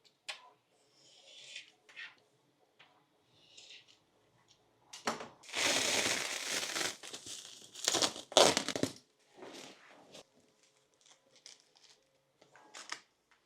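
A plastic bag crinkles and rustles in bursts while 3D printed items are packed, including an orange printed knife, with one loud stretch of handling between quieter rustles; no one speaks.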